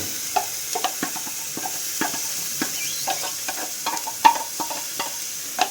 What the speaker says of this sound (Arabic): طحنت حبه طوماطيس نزيدها